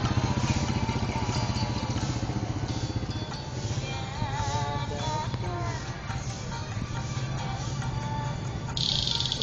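Motorcycle engines drone steadily along a road at Setu Babakan, Ciganjur. The hum is continuous and mid-loud throughout, with faint bird chirps and brief voices in the background.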